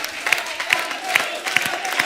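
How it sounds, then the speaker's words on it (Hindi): Studio audience at a comedy talk show claps steadily through the whole stretch, with a few sharper hand-claps standing out at a regular beat, in a reverberant room. "बजाते रहो, ताली बजाते रहो"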